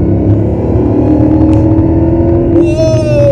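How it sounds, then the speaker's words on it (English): A supercharged Mercedes SLR engine pulling hard, a loud, dense rumbling drone heard from close by, with a rising high-pitched supercharger whine climbing above it toward the end. "And that supercharged, you can hear the whine."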